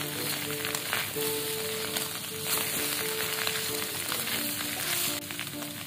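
Carrots sizzling and frying in a pan for an Indonesian oseng mawut stir-fry, a steady close crackle with light stirring clinks and no talk.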